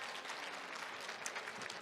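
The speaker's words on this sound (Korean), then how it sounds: "발표 진행해준 이지태스크에 다시 한번 큰 박수 부탁드리겠습니다" Audience applause at a startup pitch competition, steady dense clapping from a crowd sustained throughout at a moderate, slightly distant level.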